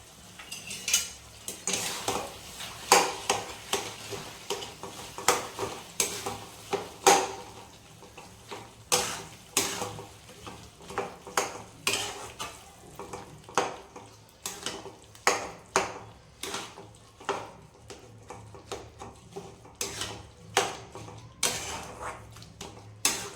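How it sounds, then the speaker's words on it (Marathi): Sweet potato mixture with jaggery being sautéed in a pan, a spoon clinking and scraping against the metal in irregular taps and knocks throughout, close and moderately loud, with no talking. "ही छान परतून घेऊया."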